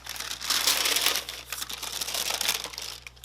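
Close, crisp crinkling of tissue paper being pulled back while Air Jordan 3 Animal Instinct sneakers are unboxed, a dense run of rustles that dips briefly midway, then resumes and tapers off.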